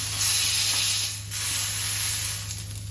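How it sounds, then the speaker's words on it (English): A Côte d'Argent steak sears in a hot pan, giving a loud, steady sizzling hiss that fills the whole stretch with slight swells, alone with no talking. "Just finish off by searing the bottom thinner side."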